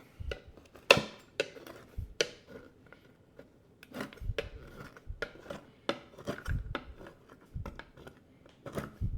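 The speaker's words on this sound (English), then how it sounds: "we're just going to give them a rough chop" A knife chopping macadamia nuts on a board, irregular knocks and clicks of the blade with scattered taps, close and fairly quiet, no talking.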